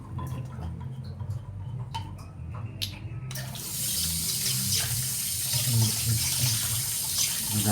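Water running from a tap while sliced sweet potatoes are washed, a steady gushing splash that grows fuller midway, with clattering handling noises early on.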